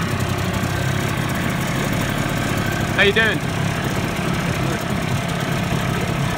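Boat engine idling steadily under a near voice greeting someone, a continuous low mechanical rumble at a harbour mooring before departure.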